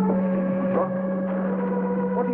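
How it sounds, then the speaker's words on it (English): Steady motor drone inside a 1950s sci-fi spacecraft setting, a constant low hum with stable tonal bands running unbroken and fairly loud throughout. "sound of a motor."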